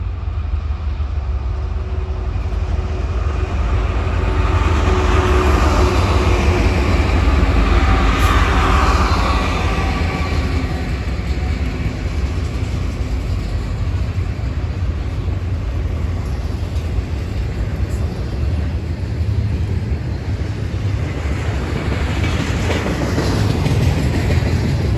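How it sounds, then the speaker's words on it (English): A daily intermodal freight train rolls past loudly and close by on a busy main line, with a deep continuous rumble and rhythmic wheel clatter over the rail joints, swelling slightly midway and carrying on steadily to the end. "21E, a daily intermodal train heading to 47th Street Yard"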